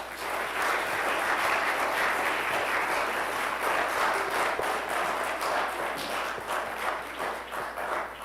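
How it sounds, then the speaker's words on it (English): A church congregation applauds for young people during an Anglican Sunday service, a dense, steady wash of many hands clapping that holds throughout at close range with no talk. "a round of applause"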